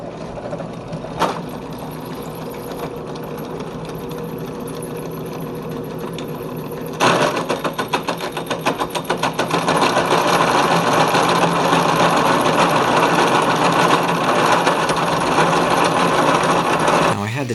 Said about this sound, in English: My hole saw was not very sharp, so that didn't help, but I got through them.